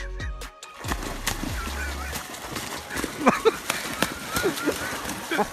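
A swan honks in harsh, repeated bursts while going after a large Kangal dog near a pond, the calls loud and close over scuffling and background commotion.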